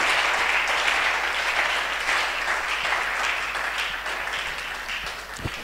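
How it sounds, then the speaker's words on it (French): A church congregation applauds steadily throughout, a dense and sustained wash of clapping from a large crowd that fades slightly toward the end. "Lève-toi, acclame. Acclame. Acclame fortement."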